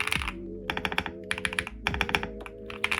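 Keys clack in quick bursts on a Kiiboom Breeze 75% mechanical keyboard, a poppy close-up typing patter with short pauses between runs, no voices.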